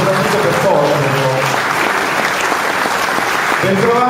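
A seated audience breaks into sustained, loud applause welcoming the provincial culture councillor of Oristano to the stage, with voices talking over the clapping.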